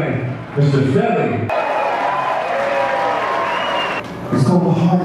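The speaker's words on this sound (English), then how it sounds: "keep that applause going, and get a warm welcome to our good friend" Applause from a live audience greeting a guest, a steady wash of clapping and some cheering that runs throughout, with brief voices at the start and the end.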